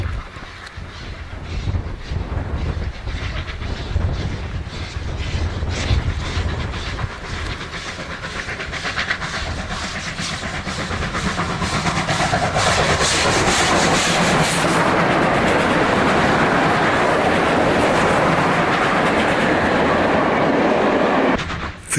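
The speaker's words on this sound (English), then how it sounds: "a train hauled by three R-Class locomotives is heading north to" A passing train hauled by three R-Class diesel locomotives grinds and rattles along the rails, rhythmic clatter building into a loud, steady rushing roar as the wagons go by.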